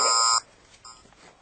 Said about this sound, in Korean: 동시에 알람 발생